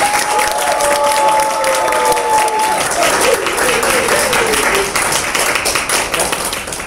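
Loud, sustained audience applause at a speech contest greets a competent-communicator contestant, dense clapping mixed with a few sustained tonal sounds early on and steady through the end.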